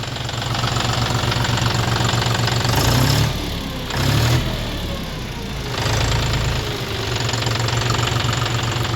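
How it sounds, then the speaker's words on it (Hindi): A 2025 John Deere 5050D 4WD tractor on large tyres idles steadily with a low, knocking diesel rumble and regular pulses, loud and close, briefly dipping twice before settling back to a steady idle. "तो ये कुछ साउंड था ट्रैक्टर का,"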